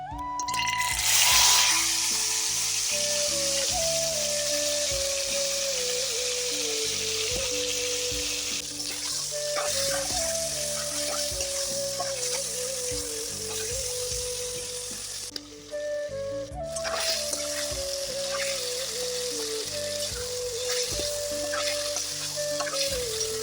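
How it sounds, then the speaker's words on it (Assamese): Marinated broiler chicken sizzles in hot mustard oil in a kadai, a loud, continuous frying hiss with scattered spoon clatters and stirring scrapes throughout, close up and with no one speaking. "ইয়াত মাংসটো দি দিম।"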